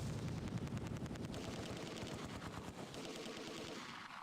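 Vickers machine gun fire in the Close Combat 2 war game, a steady stream of rapid, evenly spaced rattling shots sustained throughout, moderately loud with no talking.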